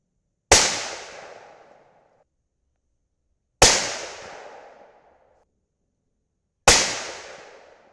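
Three sharp rifle shots during an accuracy test of a Vortex Strike Eagle 4-24x50 scope, each a loud close crack with a rolling decay, evenly spaced about three seconds apart, with no talking.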